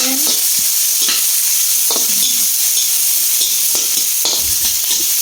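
Ginger and chicken stirred in a pan, loud constant sizzle with repeated scraping spoon strokes at irregular intervals, close up.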